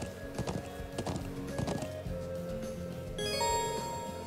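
Hooves clip-clop in a steady rhythm as a horse is ridden in the video game Trails of Cold Steel, set against layered game music. A brighter electronic tone enters near the end.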